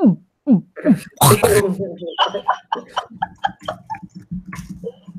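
A person makes a retching, heaving vocal imitation of a cat vomiting: short gagging bursts, then a wet sputtering burst, followed by choppy coughing and gulping noises.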